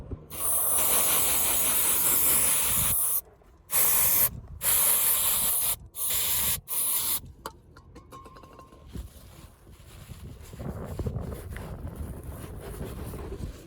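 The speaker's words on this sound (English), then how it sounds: "I'm just going to clean it off with a bit of brake cleaner and a rag" Brake cleaner sprayed onto car brake parts, several loud close hissing aerosol bursts of a few seconds each, separated by short pauses, then quieter handling and rustling noises afterward.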